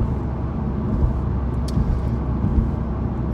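Steady road and engine drone inside a 2019 Honda Civic Type R coasting in sixth gear, a low continuous rumble with no one speaking.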